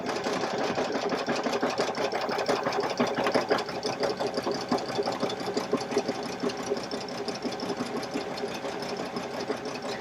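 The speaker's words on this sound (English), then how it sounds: "lower my presser foot, and stitch the tack down for the heart applique" An embroidery sewing machine stitches a tack-down line for a heart applique on a Valentine's table runner, a steady, fast, close mechanical whir and rapid needle chatter running evenly throughout without talk.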